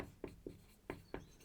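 Chalk or marker strokes on a classroom board during a Class-12 physics lesson: four short, distinct scratches in an uneven rhythm, quiet and close.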